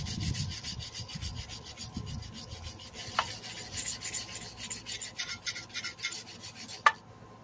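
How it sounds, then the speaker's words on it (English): A brush scrubs grime off the cylinder head of an MTD lawn mower engine in quick, rhythmic raspy strokes, close and fairly quiet, with one sharp metallic tap near the end. "We'll hit it with the brush first to help get rid of some of the main grime."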